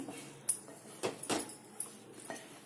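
Scattered clinks and scrapes of a utensil against a pan as eggs are stirred into egg masala curry, several sharp knocks over a soft cooking hiss.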